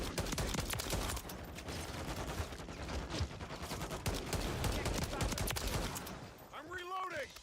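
Sustained automatic gunfire in a shooter video game played on a live stream, dense rapid bursts continuing throughout at moderate level, with a short whooshing effect near the end.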